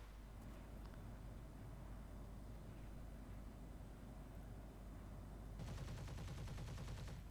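Aircraft cannon fire in a flight combat video game: rapid dense bursts of gunfire, sustained through the clip and swelling louder into a fast rattling stream near the end, with no voices.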